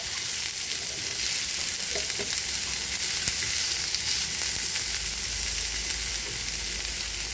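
Sliced onions with salt fry in a pan for an egg masala, giving off a steady, bright hiss of sizzling oil with occasional soft stirring clicks, continuous and close throughout, with no one talking.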